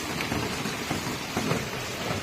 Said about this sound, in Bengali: এই যে বৃষ্টি হচ্ছে তাই দেখাচ্ছি